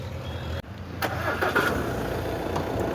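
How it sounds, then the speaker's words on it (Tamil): An Audi A4 Premium Plus engine starts with a brief crank and catches, then settles into a steady, fairly loud idle close by, with no talking. "உங்களுக்கு நான் இன்ஜின் சவுண்டெல்லாம் உங்களுக்கு வீடியோவில் ஃபுல்லாக காமிச்சிட்றேன்"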